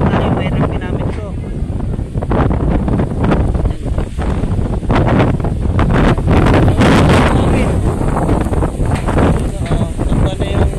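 Strong Typhoon Kristine gusts batter the microphone on a farm, loud rumbling buffets that surge and fade in irregular bursts, with a person speaking over the roar at times.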